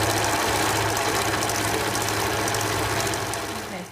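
A sewing machine stitches satin fabric for bloomers with a steady, fast mechanical whir that runs without pause and eases off slightly at the end.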